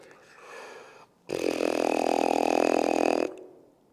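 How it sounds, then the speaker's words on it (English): A low, rough buzzing tone from lips buzzing into a tuba mouthpiece, held steadily for about two seconds, starting and stopping abruptly, loud and close, with quiet breathy noise before it. "buzzing on the mouthpiece is a great tool for all brass instruments"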